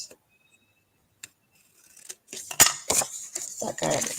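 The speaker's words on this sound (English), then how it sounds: "get the right scissors, not the ribbon scissors" Scissors snipping through paper during a paper-crafting session: a few sharp cutting strokes building toward the end, close and moderately loud, with soft handling noise before them.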